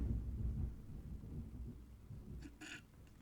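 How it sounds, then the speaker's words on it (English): Thunder from a nearby lightning strike rolls as a low, faint rumble that fades over a few seconds, with a brief sharper noise near the end. "Yeah, that was lightning."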